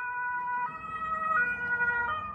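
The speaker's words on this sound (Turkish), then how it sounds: "O ambulans gidiyor." An ambulance siren on a street in Germany wails in a steady rising and falling tone as it drives past, at moderate distance over low traffic rumble, with no talk.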